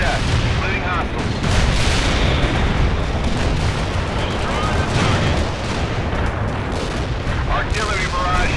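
Dense artillery barrage in the video game World in Conflict, a continuous rumble of overlapping booms and blasts with constant crackling impacts, loud and unbroken across the whole stretch.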